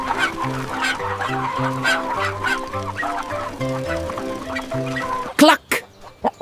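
Cartoon chickens cluck and squawk repeatedly over a bouncy, rhythmic music track in a children's cartoon, ending with a few loud, abrupt bursts of squawking.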